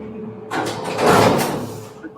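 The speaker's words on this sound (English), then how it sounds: "Doors." A sliding door rolls open along its track, a rumbling whoosh that swells and fades over about a second and a half, heard nearby in an indoor setting.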